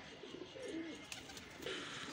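Soft, low cooing of pigeons, a couple of gentle rounded calls against a faint background hiss, with a few light clicks.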